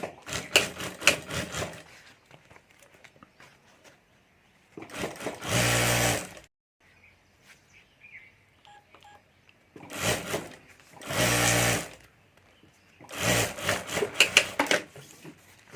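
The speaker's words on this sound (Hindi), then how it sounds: "यहाँ भी मैं सिलाई करके जिप और अस्तर लगा देता हूँ।" A sewing machine stitches a zip and lining onto a handmade handbag, running in several loud bursts of a few seconds each, separated by quiet pauses with faint handling of fabric between runs.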